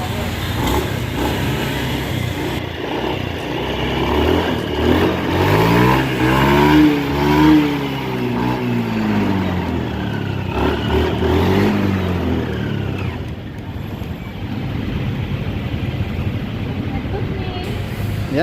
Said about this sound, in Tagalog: testing natin siya i-start. yan tapos full rev natin.